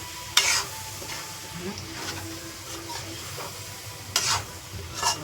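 Cooked chickpeas are stirred and mixed in a pot over a low sizzle, a spoon scraping and clacking against the metal in a few distinct strokes with soft background hiss.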